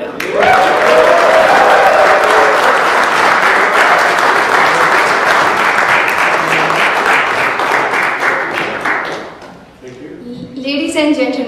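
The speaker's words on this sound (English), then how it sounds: "please give our panel a very warm round of applause" Warm applause from an evening audience at a star-studded cricket league roadshow event in New York City, a dense, loud, sustained wash of clapping that fades briefly near the end before a voice begins speaking.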